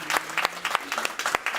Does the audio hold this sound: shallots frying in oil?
no